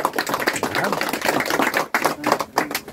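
A crowd claps at a Filipino gift-giving gathering for CAFGU members, a loud dense patter of hands over three seconds with talk and voices mixed in underneath.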